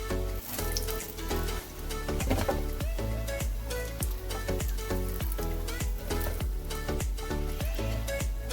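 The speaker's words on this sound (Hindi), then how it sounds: "टिक्की हमारी फ्राई हो चुकी है।" Street-style aloo tikki frying in a pan gives a steady, close sizzle with crackling pops throughout, while rhythmic background music plays underneath.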